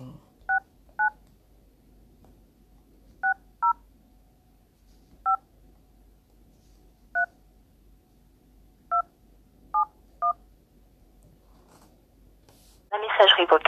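A telephone number being dialed as about nine separate touch-tone beeps, evenly loud and spaced irregularly over a quiet line, then a brief burst of voice at the end.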